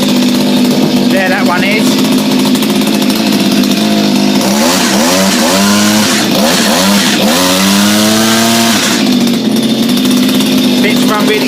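A Honda HRB 476 lawn mower engine, freshly carburettor-cleaned, runs loud and close with a steady drone, revving up and down in several swells mid-clip, while someone speaks briefly over it.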